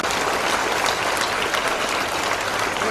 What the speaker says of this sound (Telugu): అంటే మీరు క్లాప్స్ వెళ్తూ ఉండాలా